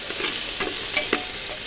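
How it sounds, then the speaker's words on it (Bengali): Lentils stirred in a frying pan with tomato, dried red chilli and cumin, a close hissing sizzle with quick scraping strokes of a spoon, no talking. "ডালটাকে ভালো করে নেড়ে"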